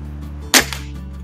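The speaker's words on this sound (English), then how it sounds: "This will be shot number 3. That's a LGU" A Walther LGU underlever air rifle fires a single shot at a 25-yard target, a sharp, close, dry crack that dies away quickly over a low steady background hum.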